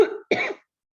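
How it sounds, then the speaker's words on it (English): Two close coughs from one person with a tickle in the throat, a longer harsh burst followed by a second one after a short gap, heard alone and fairly near during an online summit talk. "I'm going to cough again"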